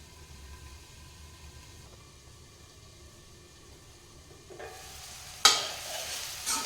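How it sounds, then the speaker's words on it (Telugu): Curry cooking in a covered pan, a low, faint simmering hiss that holds steady, then turns brighter and louder near the end with a sharp metallic clink, no voices present. "మూత పెట్టేసుకొని ఒక 5 నిమిషాలు అట్లా ఉడకనియాలి"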